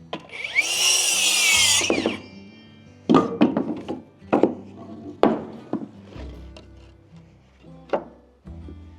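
A saw cuts wood wall plates to length for a framed wall, giving one loud, close, whining cut of about two seconds. Sharp knocks and clatters of the boards being handled follow.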